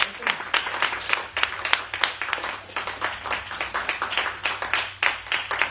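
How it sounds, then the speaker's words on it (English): A church congregation claps hands at a Sunday service, many hands in fairly regular bursts, loud and close, with a low hum underneath. "Would you clap those hands one more time?"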